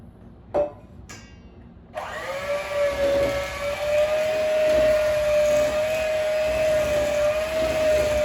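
An electric mixer beats egg yolks and sugar for a hot milk cake. A couple of sharp clicks come first, then a steady, fairly loud motor whine starts about two seconds in and holds to the end, with no talking.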